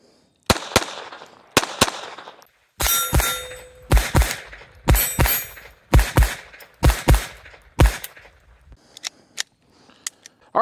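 A Walther P22 pistol fires Armscor rounds, sharp close shots coming in quick spaced pairs and bursts of about fifteen in all, each with a metallic ring.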